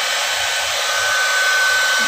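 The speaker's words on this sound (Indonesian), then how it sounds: "Sekarang di hair dryer sama Mama." A hair dryer blows steadily and loudly at close range while a pet dog is dried after a bath, a constant airy whoosh with a faint high whine and no pauses.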